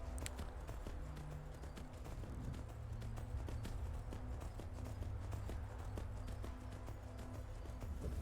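Horse hooves clip-clop in a steady, quick rhythm as a horse is ridden in the video game Skyrim, a continuous clatter of hoofbeats over a low ambient backdrop.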